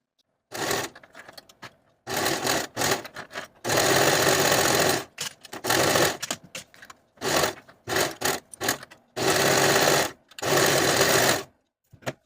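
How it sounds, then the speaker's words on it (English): A sewing machine or serger stitches the side seams of a stretch knit dress around the pocket, running in repeated bursts of steady whirring with short pauses between them. "Using your preferred stretch stitch or your serger, sew your side seams pivoting around that pocket and then all the way down to the bottom of the hem"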